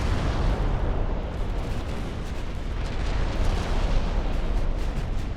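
A torpedo hit blasts against a ship's hull in the naval game Ultimate Admiral: Dreadnoughts, heard as a sustained, heavy, booming roar that stays loud and even from start to finish, with no voices.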